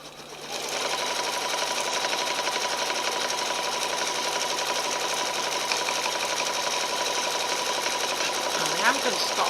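An embroidery sewing machine stitching out a mug rug runs at a steady, fast mechanical rattle close by, continuous and loud throughout, with a brief tonal squeak near the end.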